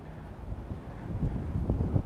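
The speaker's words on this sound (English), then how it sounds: "it's really windy now." Strong wind buffets the microphone outdoors at Cascade Locks, a low rumbling roar that builds and gusts louder toward the end, with no speech.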